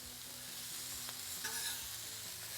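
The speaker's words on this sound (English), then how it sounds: "They're actually going to start frying in their own oil as the skin starts releasing it." Chicken wings frying in their own rendered fat on a Blackstone griddle, a steady close sizzle with faint crackles, continuous and alone.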